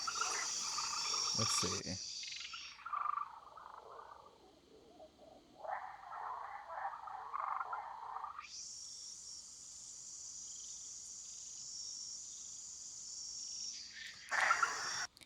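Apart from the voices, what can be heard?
crickets chirping in rainforest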